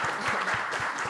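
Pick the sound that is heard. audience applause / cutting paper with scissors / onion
audience applause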